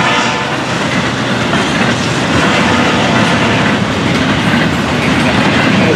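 A Florida East Coast Railway freight train, number 210, rolls past close by in the morning, with a steady loud rumble and clickety-clack of wheels on rail joints holding for the whole stretch and no talking.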